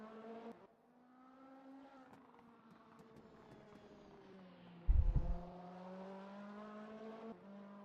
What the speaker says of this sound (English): Stephen Higgins is now rolling out of the pit lane now in the Honda WTCC car.